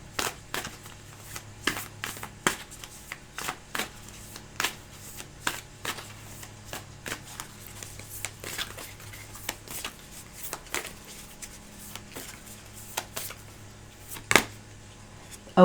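Moonology oracle cards shuffled by hand, a soft recurring riffle of quick papery flicks and taps, faint and close in a quiet room with no talking.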